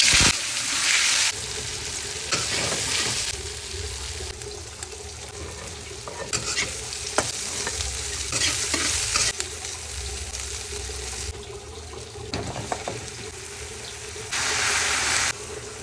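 Bottle gourd (upo) is sautéed in a pan, with a steady sizzle, stirring scrapes and bursts of running tap water in a home kitchen.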